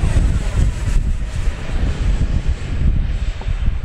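A HobbyZone Arrows F-15 radio-controlled jet with twin 64mm electric ducted fans runs at full throttle, a loud, continuous whooshing roar mixed with gusty wind buffeting the mic outdoors.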